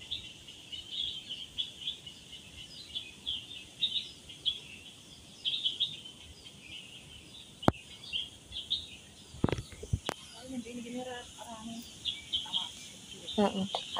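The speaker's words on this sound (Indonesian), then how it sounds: "Ada kicauan-kicauan burung." Birds chirp in a park in late afternoon, repeated short high calls scattered across the whole stretch, fairly faint, with a few sharp knocks and brief soft voices near the end.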